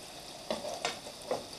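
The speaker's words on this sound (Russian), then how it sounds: "Все, жарим минут буквально 5. Сейчас она обжарится и мы продолжим." Floured anchovies fry in a pan with a steady close sizzle, broken by a few short scraping stirs or turns of the fish; no one speaks.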